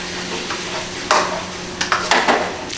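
Pork belly stir-frying in a wok, a steady low sizzle broken by several sharp scraping, clattering strokes of a spatula against the pan, close and fairly loud with no talk.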